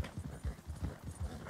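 A white horse's hooves clip-clopping in Red Dead Redemption 2, a steady rhythmic trot of soft thuds, fairly quiet and close, with no other sounds over it.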